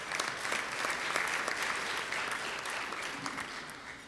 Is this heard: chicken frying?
no